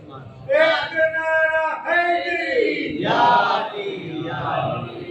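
A crowd at a religious Jashn-e-Wiladat celebration for Moula Hussain loudly shouts slogans back in unison, with strong voiced chants rising and falling in bursts, fairly close and filling the room.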